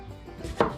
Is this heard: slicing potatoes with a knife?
yes